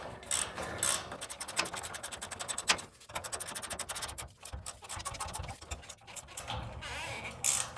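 A new filter cartridge being threaded into an oil tank filter housing, producing rapid close ratcheting clicks and scraping metal contact.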